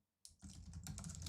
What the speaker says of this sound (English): Then it's Control C again on my keyboard, my PC.